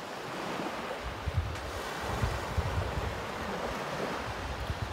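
Surf washes continuously onto Mandavi beach, a soft, steady rush of breaking waves mixed with gusty wind buffeting the microphone, with no voices.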